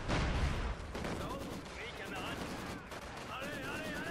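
Machine gun fire in the wartime strategy game Company of Heroes 2: dense, continuous rattling bursts and booms layered with other battlefield noise throughout, loud from the opening moment.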